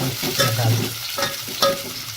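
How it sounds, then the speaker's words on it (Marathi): Onions frying in a pan while being stirred for a home-style veg biryani, with a steady close sizzle and a few louder scraping strokes of the spoon through the mix. "कांदा मस्तपैकी आता भाजला मित्रांनो बघा"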